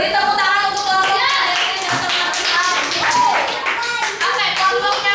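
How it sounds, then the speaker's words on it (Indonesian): A classroom of elementary school pupils claps for a student group, bright rapid clapping mixed with children's voices and chatter throughout. "Beri tepuk tangan untuk kelompoknya."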